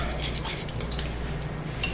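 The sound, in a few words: stirring bath bomb mixture in a bowl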